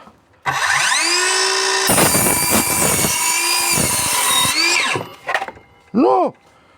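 An Einhell cordless circular saw whines up to speed, then bites through wood for a few seconds with a loud rasping cut, winds down, and gives two short bursts of spin-up and spin-down at the end.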